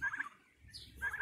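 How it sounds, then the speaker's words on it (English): Baby turkeys on a back porch give a few high chirping peeps in two short bursts with a quieter gap between, close by and with no talking. "I've also got six baby turkeys on the back porch"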